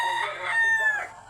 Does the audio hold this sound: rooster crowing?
yes